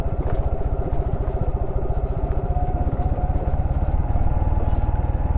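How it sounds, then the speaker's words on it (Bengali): A vehicle creeps down a steep Bandarban hill road in first gear under engine braking, its engine giving a loud, steady, close-up drone with a fast low throb that never lets up. "আর ফার্স্ট গিয়ার আমি দিয়ে রাখছি, ইঞ্জিন ব্রেকে আছে।"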